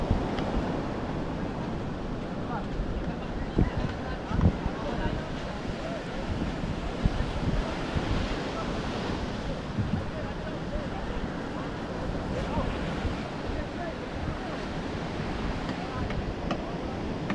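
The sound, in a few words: large ocean waves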